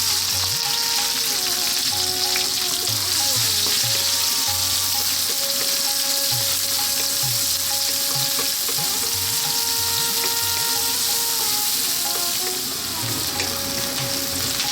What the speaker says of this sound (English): we're going to drop our onions in